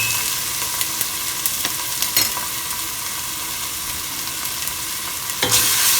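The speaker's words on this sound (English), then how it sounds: "Saute this well." Ginger garlic paste sautés in a pan while being stirred, a dense continuous sizzle with intermittent scraping strokes and a few louder stirring bursts, no talking.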